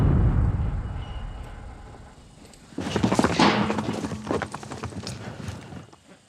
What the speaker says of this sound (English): these horses are fairly small brumbies